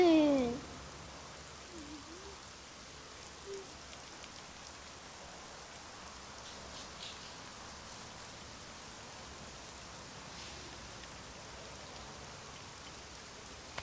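Continuous rain hisses evenly for the whole stretch, a soft broadband patter with no break, after a brief voice-like sound at the very start.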